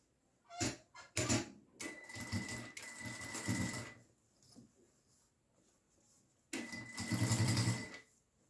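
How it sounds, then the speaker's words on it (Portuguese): A sewing machine topstitching fabric for a triple pencil case runs in three separate bursts, two short ones and then longer ones, loud and close with quiet pauses between. "vamos fazer uma costurinha de pesponto, igual que a gente fez do outro lado"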